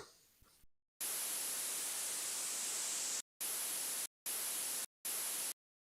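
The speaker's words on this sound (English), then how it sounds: "It's just a standard noise sweep down," Broadband white noise in a mix, heard alone: a steady hiss runs for about two seconds after a short quiet lead-in, then three short bursts follow with sharp gaps between them.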